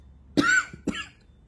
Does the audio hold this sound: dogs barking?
no